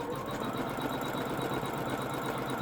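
An embroidery machine stitching an in-the-hoop zippered pouch, giving a faint, steady mechanical hum with rapid even needle rhythm.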